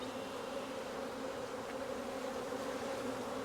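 Honey bees buzz steadily at an open single brood chamber hive during a spring inspection, a dense, continuous hum close by with no talk.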